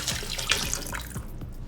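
Water and chicken stock being poured into a stew pot at home, a steady close splashing and gurgling pour that fades out near the end, with no talk.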